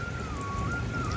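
Steady rain pours down outdoors in Haridwar during a monsoon shower, a dense even hiss of drops close by, with a faint thin whistle-like tone running through it.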